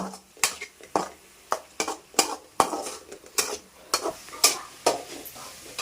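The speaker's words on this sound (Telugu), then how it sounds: "పేస్ట్ అల్లం పేస్ట్ కూడా బాగా పచ్చివాసన పోయేదాకా మనం బాగా ఫ్రై చేసుకోవాలన్నమాట" Ginger paste fries in a pan for a spicy crab curry, a soft sizzle broken by regular sharp clinks and scrapes of a spoon stirring against the metal, roughly one knock every half second.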